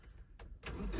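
A 2013 Toyota Innova engine cranks and catches, a brief burst followed by a louder, steady rising rumble as it fires up nearby.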